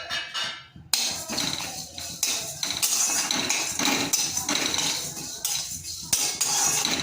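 Whole spices dry roasted in a dry pan over low heat, heard as rapid close metallic scraping and clinking of a spatula against the pan, continuous with brief pauses and no talking.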